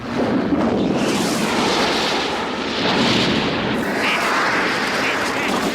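A comic film explosion as a beer atom split with hammer and chisel blows apart a small cabin and sends up a mushroom cloud: a sustained, loud roaring rumble with crackling debris, continuous throughout.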